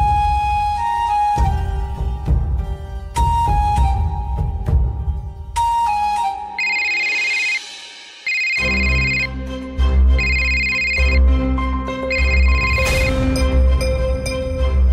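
An electronic telephone ringtone plays loud and close as a melodic tune of repeated tones with short pauses, and no one speaks over it.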